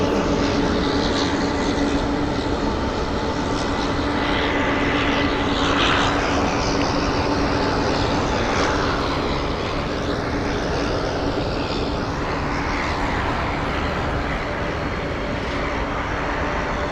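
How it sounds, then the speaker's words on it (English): An Alaska Airlines Boeing 737-900ER departs Phoenix Sky Harbor, its jet engines producing a continuous, loud, broadband roar that holds steady for the whole span, with no speech over it. "Next up for departure, taking the runway now, is Alaska 603 going to Seattle, Boeing 737-900ER"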